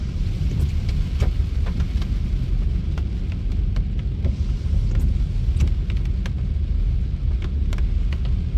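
Heavy rain falls steadily at a Leetsdale, Pennsylvania trackside as a freight train with center beam cars rolls past, a dense continuous wash of rain and rumble with scattered sharp clicks and taps, loud and unbroken throughout.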